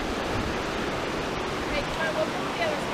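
Swift river water in the Smoky Mountains rushes steadily in a dense, unbroken roar, close and loud throughout with no breaks.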